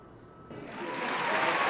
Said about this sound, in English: Amidst the cheers and claps, now is as good a time as any to move.